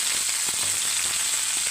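Lemon pieces frying in hot oil with mustard seeds and curry leaves, a steady, close, loud sizzle that holds without a break and has no voices over it.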